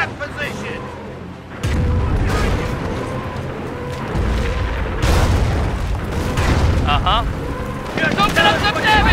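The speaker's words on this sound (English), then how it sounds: "Our base is in range of the Kraut artillery." German artillery shells pound a player's base in the WWII strategy game Company of Heroes, with heavy booming impacts rolling in repeatedly over a loud, dense battle din while voices talk over it.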